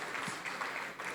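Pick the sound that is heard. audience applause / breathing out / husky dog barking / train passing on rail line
audience applause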